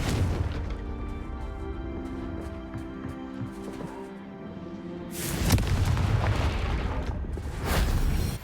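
A Confringo fire spell blasts in Hogwarts Legacy, a loud broad explosion bursting in after a stretch of low rumbling game sound, followed by a second rolling boom near the end.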